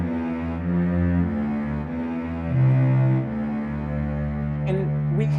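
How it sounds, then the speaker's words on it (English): The Dies Irae theme carried by low strings, a slow, dark sustained line with shifting held notes, steady and moderately loud with no voices. "again, you'll hear this theme in the low strings, which sounds like this"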